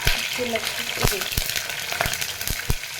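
Seasoning crackles and sizzles in hot oil for tomato pappu, a dense steady fry dotted with sharp pops and spatters, close and continuous with no talk.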